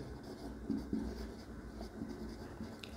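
Pen or chalk writing a note during a lesson, with faint, close scratching strokes and a few small taps over a steady low room hum, no talking.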